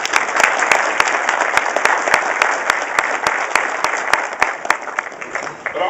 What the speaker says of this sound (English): yeah, go ahead and clap.